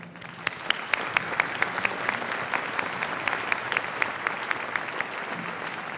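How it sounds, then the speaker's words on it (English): Audience applause at a college commencement ceremony, a steady wash of many hands clapping with a few sharper nearby claps standing out throughout. "Please welcome me with applause."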